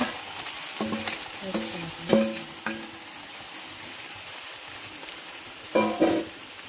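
Octopus meat is stirred in a hot cooking pan, giving a steady frying sizzle broken by several scraping stirs, a cluster early on and another near the end, with no voices.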